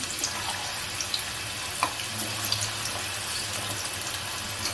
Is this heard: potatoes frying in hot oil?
yes